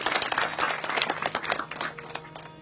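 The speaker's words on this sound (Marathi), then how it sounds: "त्यांच्यासाठी देखील एकदा टाळ्या वाजवा बरं" An audience at a kirtan claps together, a dense burst of applause that is loud at first and then thins into scattered claps toward the end.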